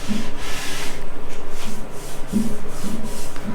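Close, rhythmic scratchy rubbing of a hand stroking back and forth across a rough softwood shelf with one coat of finish, repeated strokes with no talking.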